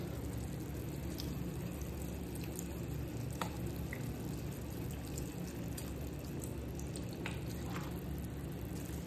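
Water poured into a pot of adobo being cooked, a continuous steady hiss and splash with a few faint drips, alone and without talk.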